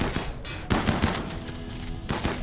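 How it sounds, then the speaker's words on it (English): Explosions go off in the colony game RimWorld, a few sharp thumping bursts that stand out clearly over a busy game soundscape. "Another explosion."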